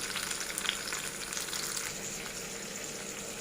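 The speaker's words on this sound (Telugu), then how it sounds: "ఈ మిగిలిన ఇడ్లీలని ఇలా కలిపి పెట్టుకుందాం" Leftover idli crumbled and fried in a pan for idli upma, giving a steady, close sizzle with faint stirring scrapes throughout, no voices.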